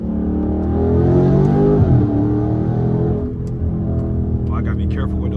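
A straight-piped Scat Pack accelerates hard on a dark back road, its deep engine roar rising in pitch and then easing off. Someone talks over the engine.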